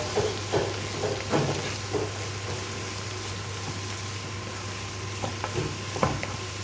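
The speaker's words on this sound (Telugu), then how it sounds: "ముందుగా మనం తురుం పెట్టుకున్నటువంటి క్యారెట్ కూడా ఇందులో వేసి బాగా ఫ్రై చేసుకున్నాం" Grated carrot and tomato frying in a pan while being stirred: a low, even sizzle with occasional scraping clicks of a utensil and a faint steady hum behind.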